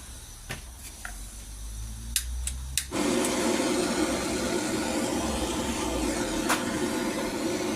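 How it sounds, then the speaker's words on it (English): A blow lamp heating a chunk of lead in a small tin, its steady roaring hiss starting abruptly after a few light taps and continuing loud and unbroken to the end. "Any sort of blow lamp will melt lead."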